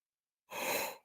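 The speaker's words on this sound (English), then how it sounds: "pardon me for the yawn" A single breathy yawn that exhales for about half a second and fades out, close and fairly quiet after a brief silence.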